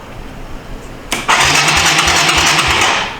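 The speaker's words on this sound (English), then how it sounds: "Now I'm gonna have to give it some gas because it's idled down too low." A Yamaha 250 Timberwolf ATV, found abandoned, starts about a second in and then idles low, close and loud, with a steady rough putter.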